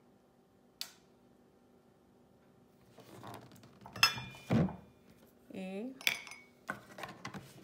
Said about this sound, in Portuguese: Então, aqui a gente tem uma colher.